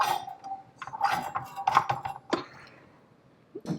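Metal clinks and clatters as a whisk attachment is fitted onto a kitchen mixer before making butter from raw milk cream, a cluster of sharp knocks close by, then a pause and one last clunk.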